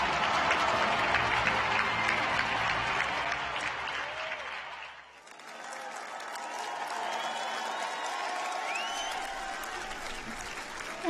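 A large World Youth Day crowd in Portugal applauds and cheers steadily after watching a highlights video, with the sound briefly dipping midway before the broad roar of clapping and voices swells again.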